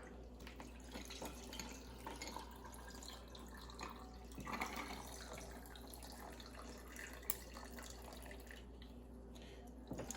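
Gummy worm drink liquid trickles and splashes steadily into a cup, a soft continuous pour with faint drips, heard close and quiet.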